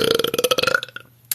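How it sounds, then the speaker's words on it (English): A girl lets out a loud, long belch with a rapid croaking pulse that trails off into a few weaker gurgles, then a brief sharp noise at the end; close and alone. "People will tell you, yes, those are real burps."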